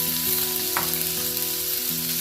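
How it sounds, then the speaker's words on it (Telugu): Boiled broad beans (chikkudukaya) fry in a pan with tempering seeds in very little oil, giving a steady, close sizzle with brief stirring scrapes and no talking. "వేసుకొని బాగా ఫ్రై చేసుకోవాలి"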